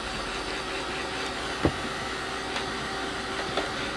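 Handheld hair dryer blowing steadily at close range over a craft project, a constant broadband whoosh with a few faint clicks and knocks and no speech.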